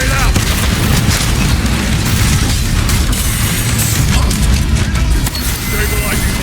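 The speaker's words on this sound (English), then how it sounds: "Frag grenade out." Frag grenade explosions in Warhammer 40,000: Space Marine 2 on max difficulty, a loud, dense barrage of booming blasts and crashing combat noise sustained throughout, with a character's voice occasionally breaking through.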